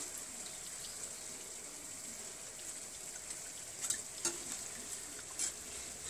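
Almond briouats fry quietly in oil with a soft, constant sizzle, and a few faint clinks and stirs rise briefly near the end.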